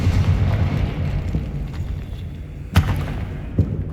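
Confringo fire spell detonations in Hogwarts Legacy, sharp bursts that crack out over a rumbling, noisy background, one loud blast followed by a smaller one.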